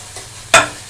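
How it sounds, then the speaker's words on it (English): Scrambled eggs in a pan on a burner give a short, bright sizzle burst lasting about half a second, close and crisp, after a fainter hiss just before it. "And when you start hearing a lot of sizzling,"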